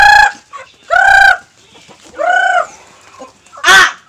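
Loud, close chicken calls in separate bursts, with clucking hens and a rooster crowing, each call separated by brief quiet.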